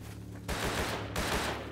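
Gunfire in the battle-royale game Rust: two loud, close bursts of shots crack out in quick succession, each a dense rattling volley over a low background hum.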